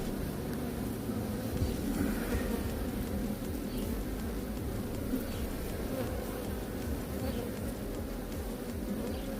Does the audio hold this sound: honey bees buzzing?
yes